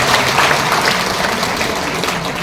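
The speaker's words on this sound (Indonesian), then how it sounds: "Tepuk tangan buat semuanya." A large crowd of mostly young people claps at a prayer fellowship gathering, a dense, steady burst of applause that fills the room.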